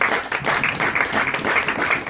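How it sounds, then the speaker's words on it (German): Brief, steady applause at an ice hockey press conference for ESC Geretsried versus ESC Kempten, a short continuous patter of hands in the room. "Trotzdem Applaus nochmal."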